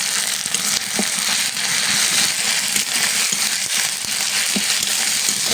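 Chopped tomato frying in a pan with onion and ginger-garlic paste for a prawn and potato curry, a steady loud sizzle and crackle throughout with occasional stirring scrapes.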